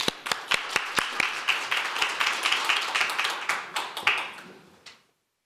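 Audience applause for the next contestant at a youth speech contest, a burst of claps with sharp individual hand strikes standing out, steady for about four seconds before tapering off and stopping.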